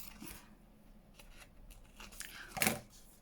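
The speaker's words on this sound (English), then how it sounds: "So let me get my glue scissors. So I shall just cut that off." Glue scissors snip through a paper tag with a quick crisp cut, close and quiet, amid faint rustling and handling noise.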